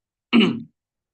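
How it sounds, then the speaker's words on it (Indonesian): A single short, throaty cough or throat-clearing burst, close and fairly loud, followed by silence. "batuk lagi."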